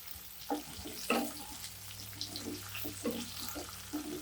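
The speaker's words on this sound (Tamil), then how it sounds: "இந்த முழுசாக தக்காளி அப்படியே அந்த எண்ணெயிலே வதங்கணும்" Whole tomatoes soften in hot oil in a pan with a faint, close sizzle broken by scattered soft pops and spatters.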